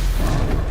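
A Stupefy spell cast in the video game Hogwarts Legacy: one brief, loud, booming magical blast that lasts under a second, heard alone.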